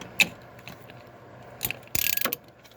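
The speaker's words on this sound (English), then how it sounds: "throw your ratchet on there." Ratchet wrench snugging a spark plug on a 2006 Suzuki GSX-R750 motorcycle, heard as a few faint clicks followed by a louder burst of rapid ratcheting near the end.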